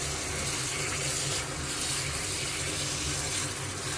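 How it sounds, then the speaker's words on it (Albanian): Cherries being washed in plenty of water, giving a steady, fairly loud rush of running and sloshing water that carries on without a break and with no voices. "I lajmë në ujë të bollshëm për të pastruar çdo papastërti të mundshme"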